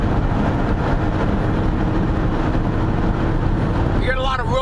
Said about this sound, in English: We get a lot of road noise with this car.